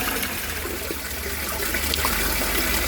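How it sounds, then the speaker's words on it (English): Murky brown water pours out of a garden pond being drained for a water change, a steady rushing, trickling flow that continues evenly throughout at moderate loudness, with no voices. "I've got to do a water change on this, get rid of some of this brown and crappy water"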